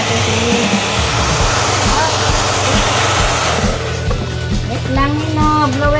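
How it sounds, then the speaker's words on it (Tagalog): A handheld blower drying a cat's fur roars loudly and steadily for several seconds, then cuts back, leaving a lower hum while people talk over it. "Wait lang Nino, blower muna"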